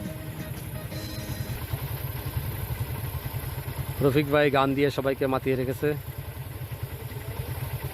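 Motorcycles parked at a night picnic deep in the hills after a day of rain idle with a steady low mechanical throb, while a man sings and others talk over the engines.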